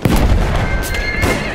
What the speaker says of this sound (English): Okay, I see a horse too.